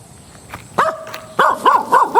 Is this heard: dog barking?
yes